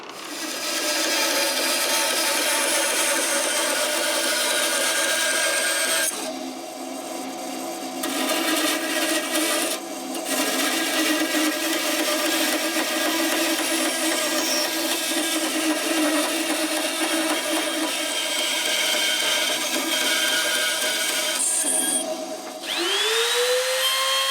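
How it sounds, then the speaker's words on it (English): A bandsaw cuts away excess wood from a custom Strat-style guitar body, a loud, steady machine whine and cutting hiss running unbroken, with brief shifts as the blade bites into the workpiece. "over to the bandsaw and we'll start to trim away all this excess material here"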